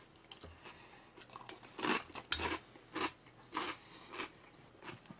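Crunchy biting and chewing of a sugared snack, a series of crisp crunches at an irregular pace, close but fairly quiet, with no talking.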